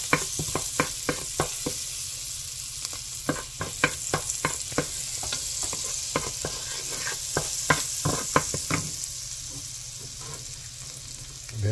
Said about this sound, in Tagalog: Tapos, bawang. Medyo toasted natin konti.